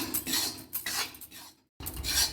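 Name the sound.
stirring wheat flour roasting in ghee in a pan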